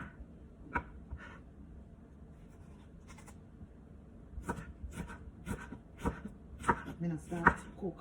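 A knife chops cabbage on a cutting board in a home kitchen, a series of quiet, irregular thuds that grow quicker toward the end, with faint talk underneath.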